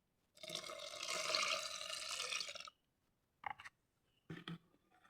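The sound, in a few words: water poured into liquid soap mixture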